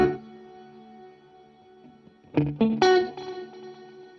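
An electric guitar played through a Boss GX100 modeler rings with sustained delay trails that fade out, then two or three fresh strummed chords cut in and echo back, all instrumental with no voices.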